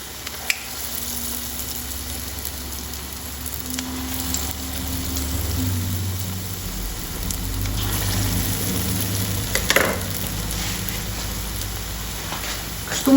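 Milk fritter batter is squeezed from a pastry bag into a pan and snipped off, producing a moderate, steady frying sizzle with occasional light clatter and soft handling noises.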